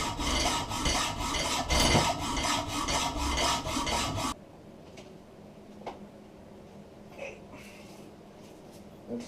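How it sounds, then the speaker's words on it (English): Hacksaw cutting metal held in a vise during a manual gearbox swap on a BMW E31 840Ci EV conversion, about four seconds of close, rhythmic rasping strokes, then quiet with a few faint taps. "I prefer the narrow cut of a hacksaw"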